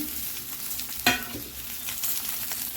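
Turmeric goes into fish frying in oil, with a steady sizzle and one sharp scrape of stirring near the middle, then continued soft frying crackle.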